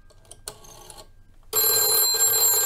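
A red telephone rigged with a Raspberry Pi rings electronically, a loud sustained bell tone starting after a short burst and quiet handling sounds, then continuing to the end.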